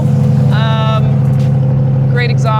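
A Corvette C8 idles after starting, its exhaust a deep, steady rumble that stays loud and even throughout, while a person talks over it.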